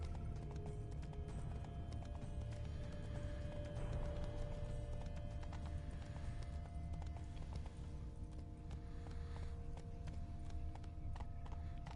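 Horse hooves clip-clopping on a road in The Witcher 3 video game, a steady, quick galloping rhythm, faint and continuous, with occasional creaks and no talk.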